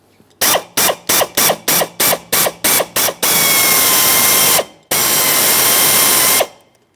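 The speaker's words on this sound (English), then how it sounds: "we'll be using a 3/8 size drill bit for each of these rivets" A power drill with a 3/8-inch bit drills out rivets on a 2013-2020 Ford Fusion license plate bracket, whining in about ten short, rapid bursts, then two longer sustained spells, loud and close with a high metallic tone.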